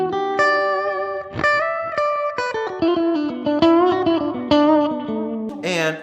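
Electric guitar through an amp with a delay effect, a steady run of picked single notes and double-stops with ringing repeats, ending in a bright strummed chord.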